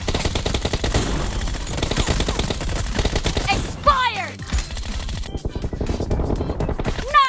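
Rapid bursts of Groza rifle fire in PUBG Mobile, loud and close, mixed with game sound effects and someone talking over the shooting.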